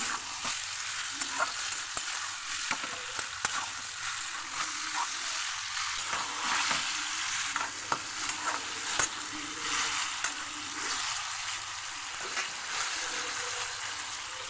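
Bitter gourd and potato curry is stir-fried with ground spices in a pan, with a continuous close sizzle and frequent scraping and clinking strokes from a spatula. No one speaks.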